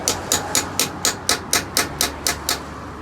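Hammer taps on a flat-blade screwdriver bit set into a Phillips-head screw during a Discovery 2 wheel bearing replacement: eleven evenly spaced, sharp metallic knocks, close and clear, with no talking.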